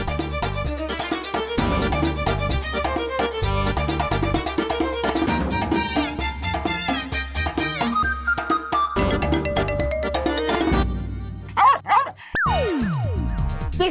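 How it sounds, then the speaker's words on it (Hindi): A dog barking in a classroom, several yipping barks and whimpers set over a dense, busy musical background, moderately loud throughout. "तुम ऐसी आवाजें निकालोगे कुत्ते वाली?"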